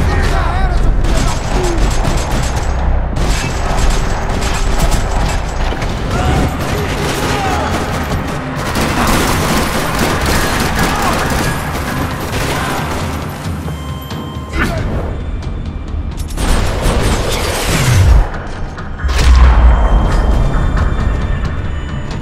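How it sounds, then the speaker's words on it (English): Gunfire in a parking lot from the video game Max Payne 3: dense, sustained rattling volleys with heavy booms and thuds, loud and continuous over a busy backdrop, briefly easing before another burst. "Another parking lot rattling with gunfire."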